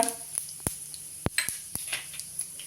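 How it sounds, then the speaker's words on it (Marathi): Cumin seeds dropped into a tablespoon of hot oil for a chutney tempering: faint, sparse crackles and sharp pops over a quiet background, with a few clicks of a spoon against the pan. "एक टेबल स्पून तेल घातलंय तेल तापलंय त्याच्यावरती आता जिरं घालूया"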